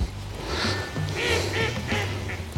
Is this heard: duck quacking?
yes